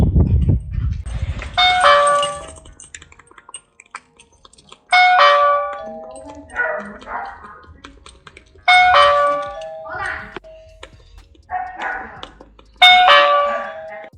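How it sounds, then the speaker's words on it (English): Doorbell chimes ringing repeatedly at a door during a child pickup, with about five separate multi-tone ding-dong bursts spaced a few seconds apart, fairly loud and clear, with a thump at the start. "I can hear the doorbell ringing."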